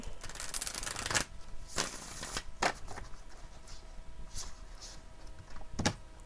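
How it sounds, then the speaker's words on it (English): Tarot card shuffling in quick riffling bursts, several brisk broadband rustles spread across the clip, fairly close, with no talking. "Let's shuffle this deck, see what else wants to come out."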